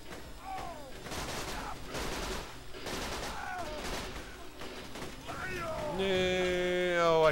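Guns fire in the video game Borderlands 2 as a series of punchy bursts spread over several seconds, mixed with whooshing game effects and ending in a rising electronic tone. A person talks over the shots.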